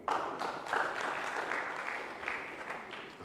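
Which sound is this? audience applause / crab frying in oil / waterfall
audience applause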